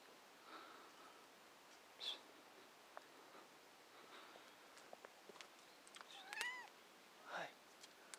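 A house cat that has caught a mouse gives a couple of short, faint meows outdoors, mixed with quiet footsteps and light rustling.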